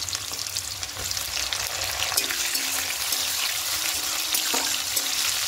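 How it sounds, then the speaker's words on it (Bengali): Chopped tomato and onion sizzle loudly in a pan for a few seconds, a dense, even crackle with short spatter bursts and occasional stirring scrapes, with no voices. "একটু সামান্য হালকা একটু ভেজে নেব"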